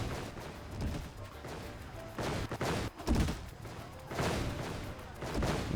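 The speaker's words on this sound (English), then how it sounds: "Ooh, bombs are exploding everywhere." Bombs exploding in the video game Final Fantasy XIV: dense, rumbling blasts and crashes roll continuously, with heavier bursts swelling every second or so over a thick, noisy game soundscape.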